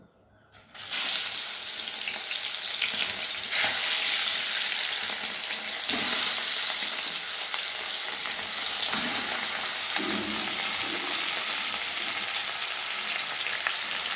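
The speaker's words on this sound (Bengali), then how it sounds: "কড়াইয়ে সর্ষের তেল গরম করতে দিয়েছি। এবার মাছগুলো একে একে দিয়ে দেব।" Fish frying in hot mustard oil in a wok, a loud steady close sizzle that rises sharply at the start and carries on evenly with occasional crackles, no voices.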